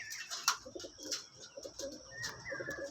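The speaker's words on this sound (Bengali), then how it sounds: "একখানা পায়রা দেখুন আটসাদ লাইনে পায়রা এটা" An Andhra-line male pigeon coos in soft, repeated throaty phrases close by, with faint chirps and light background noise and no talk.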